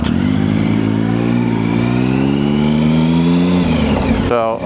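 A loud, close motorcycle engine revs and holds a throaty rising drone at an outdoor bike night gathering, then drops off abruptly near the end.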